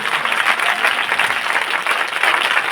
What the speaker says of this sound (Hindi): अपने हाथों को उठाकर परमेश्वर को ताली बजाएं, क्योंकि वो आदर के योग्य है।